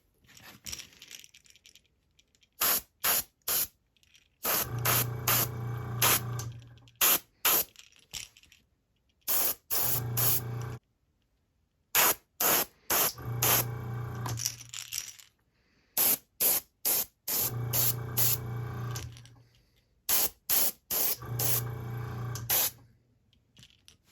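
Repeated bursts of aerosol spray paint on a fishing lure, long hissing sprays alternating with short quick puffs, close and loud, with brief pauses between passes.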